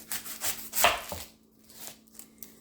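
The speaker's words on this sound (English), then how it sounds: "I'm just going to trim the ends off of it" A knife chops through a red onion on a cutting board, trimming off its ends in a few quick, close, crisp strikes followed by quieter scraping, with no voices.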